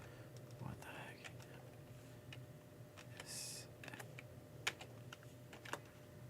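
Fingers type on a Logitech computer keyboard, giving quiet, irregular key clicks and occasional sharper taps at a steady pace, fairly faint and close, with soft background noise and some low murmuring.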